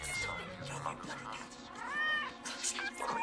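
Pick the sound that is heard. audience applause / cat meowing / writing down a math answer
cat meowing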